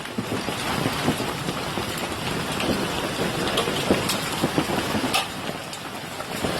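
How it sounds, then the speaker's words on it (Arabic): Dense, continuous clatter of large hailstones striking cars and the ground during a violent storm, steady and loud throughout with scattered sharper impacts standing out. "اسمع صوت البرد"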